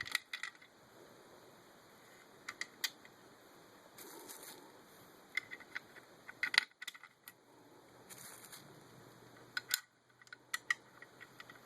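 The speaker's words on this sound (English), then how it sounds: "the first thing you want to do is drop 4 screws in here" Four screws dropped into the mount of a Samsung TV stand, giving light metallic clinks and rattles in scattered bursts, close and fairly quiet, with no talking.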